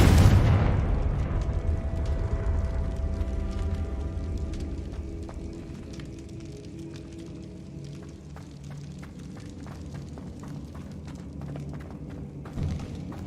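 Confringo fire spell explosions in the video game Hogwarts Legacy, opening with one loud booming blast that decays into a long rumbling tail with faint crackles and a small thump near the end.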